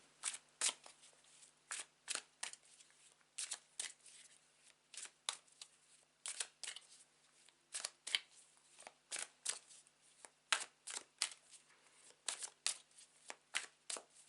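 Tarot cards are shuffled close up in quick crisp riffling bursts that repeat in a steady rhythm, faint and alone with no talking.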